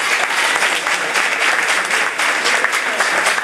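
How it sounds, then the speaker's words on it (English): Cheer parents at a high school athletic banquet get a sustained round of applause from the audience, dense, steady clapping that fills the room at even loudness throughout. "Let's go ahead and give them a round of applause."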